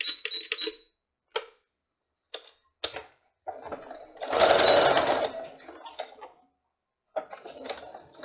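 Straight-stitch sewing machine hemming a pillowcase edge, several short clicking bursts followed by a longer whirring run of stitches, close and clear with pauses between.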